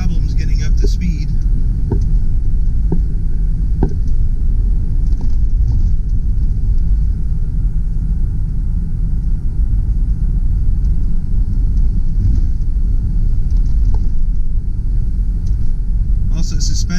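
A 2004 Lexus RX330 accelerating on the road, with a steady rumble of engine and road noise throughout and a voice talking over it.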